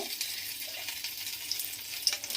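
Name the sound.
bay leaves and dried red chillies frying in oil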